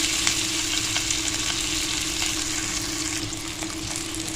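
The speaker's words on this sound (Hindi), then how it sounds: "और अब हम इसमें डाल देंगे अपना मैरिनेट किया हुआ चिकन" Marinated chicken sizzles in an oil-brushed pan, a steady crackling fry with a constant hum underneath and no voices.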